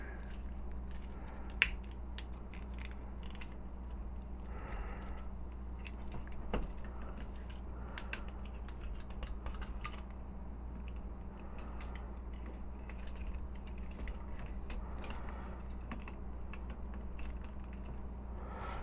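Plastic parts of a Transformers United Lugnut toy clicking and locking into place: small, sharp, scattered clicks over a steady low background hum, fairly close and modest in volume.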